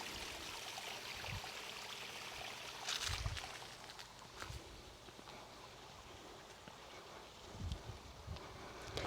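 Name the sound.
small waterfall on an Auburn property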